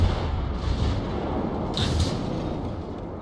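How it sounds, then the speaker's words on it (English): Naval guns in a World of Warships battle, aimed at a battleship, boom in a heavy, rumbling barrage with a sharper crack near the middle, amid continuous low battle noise and no talking. "I can concentrate on putting some more fire into that battleship."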